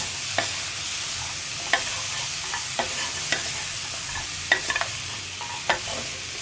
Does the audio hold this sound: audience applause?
no